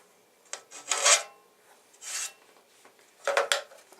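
Hand file rasping along the edge of a 3D printer heatbed build plate, several short scraping strokes in bursts separated by brief pauses, close and fairly quiet.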